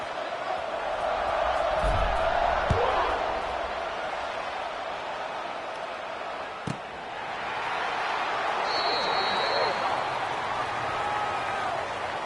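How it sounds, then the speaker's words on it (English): Football stadium crowd at a college game between ASU and Arkansas, a broad steady roar and buzz filling the space after a score, with a few sharp thumps and a brief whistle-like tone partway through. "this crowd is buzzing after that last score"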